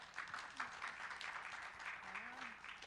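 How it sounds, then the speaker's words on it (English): An audience at an education event applauds with steady, continuous clapping that fills the whole stretch, fairly even in level without a clear start or finish. "Can we get a round of applause for that?"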